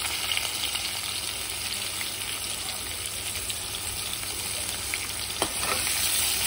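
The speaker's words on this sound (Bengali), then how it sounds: "একটু রসুন থেতো করা আর পেঁয়াজ কুচিটাও অ্যাড করে দিব।" Crushed garlic and chopped onion fry in hot oil with a loud, constant crackling sizzle close by and a single sharp utensil tap near the end.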